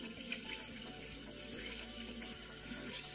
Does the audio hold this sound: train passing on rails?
no